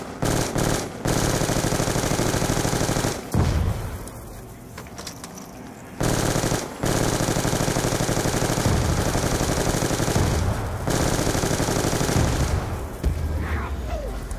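Bursts of rapid automatic gunfire erupt in a zombies video game, loud and close, in several long sustained volleys separated by brief pauses.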